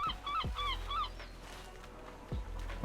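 A seagull calling on a lakeside shore in the online game Lord of the Rings Online, two or three honking, squawking cries near the start over steady background ambience.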